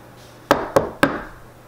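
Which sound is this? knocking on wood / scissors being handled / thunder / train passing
knocking on wood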